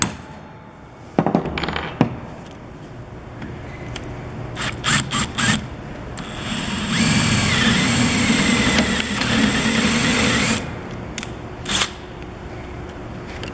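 Power drill boring a hole through center-punched sheet metal, a steady whine sustained for several seconds near the middle, with separate clicks and knocks of handling before and after.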